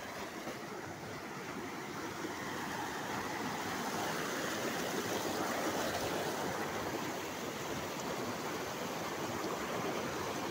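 A swollen river rushes over and between stones with a dense, steady roar of flowing water, continuous and fairly close, with no voices.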